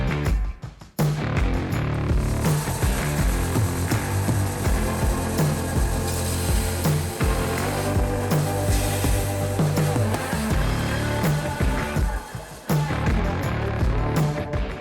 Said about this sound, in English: My belt sander will make quick work of this.